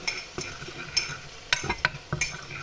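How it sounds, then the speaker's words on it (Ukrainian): A yolk and egg mixture being whisked in a bowl, producing irregular light clinks and scraping taps over a soft, steady background hiss, close and fairly quiet with no voices. "Ми доколочуємо нашу суміш жовтка і яйця."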